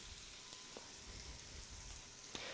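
Bologna sausage slices fry in a pan weighted down by another pan on top, producing a faint, steady crackling sizzle with a few scattered pops.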